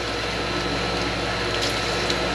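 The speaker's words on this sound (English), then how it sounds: "If it is, we'll have water flowing out right here" A steady, loud rush of water gushing from a pressurized water line at a well, a dense continuous hiss and roar with a low pump-like hum underneath, unbroken for its whole length.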